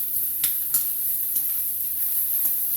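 Already-cooked food warming in a pan ahead of eggs gives off a soft, steady sizzle with a few sharper crackles and pops, close and fairly quiet.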